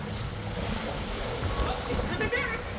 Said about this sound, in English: Just showing you the waves.